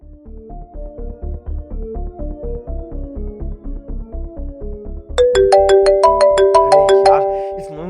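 A phone ringtone plays a bouncy electronic melody over a steady beat, then turns louder and brighter as a higher tune joins in.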